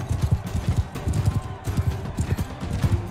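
Rhythmic clip-clop of a horse's hooves galloping in Mount and Blade 2 Bannerlord, steady repeated beats close and fairly loud, alone without talk.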